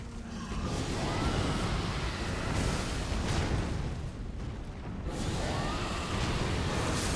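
In Elden Ring, a Dragonmaw incantation unleashed against a gargoyle: a dense, roaring burst of loud noise in two long surging waves, sustained and heavy, with no speech.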